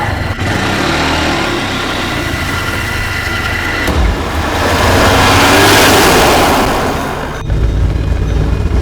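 A motorcycle rides off, its engine droning loudly and close before swelling and fading away over several seconds, ending with a thump and a lower, rougher rumble.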